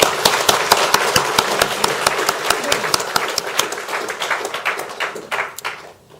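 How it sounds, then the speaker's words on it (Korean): An audience at a sermon gathering breaks into vigorous rhythmic clapping, sharp claps landing in a fast even beat at first, then turning looser and scattered before fading out near the end. "힘찬 박수 한번"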